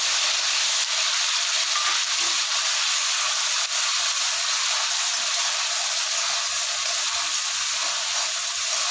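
Ginger-garlic paste and green chilli hitting hot oil in a pan for cashew kurma, giving a steady, loud, broadband sizzle that holds evenly throughout with no talking.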